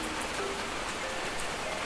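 Steady rain pattering on a surface, a dense broadband hiss with scattered drops, close and fairly loud, no voices.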